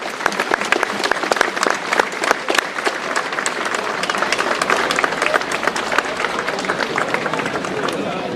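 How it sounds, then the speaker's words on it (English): Crowd applause at a junior Gaelic football final, dense steady clapping from many people that continues loudly throughout, with a voice faintly underneath. "so round of applause to Tubberclair."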